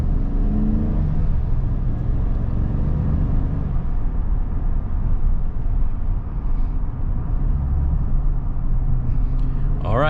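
Low, steady engine rumble of a 2022 Chevy Silverado 1500 LTZ with a 5.3 V8, heard from inside while driving, constant and muffled, with a faint mechanical rattle near the end.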